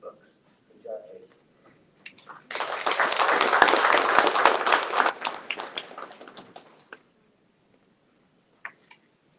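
Audience applause for students at a school board meeting, a burst of clapping from a room of people lasting a few seconds and then tapering off, with scattered claps and quiet room noise before and after.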